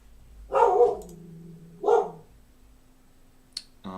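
A dog barks twice in a quiet room, two loud separate barks about a second apart, followed by a brief sharp click and faint noise.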